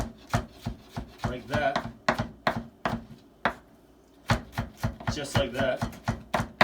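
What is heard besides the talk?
knife dicing food on a board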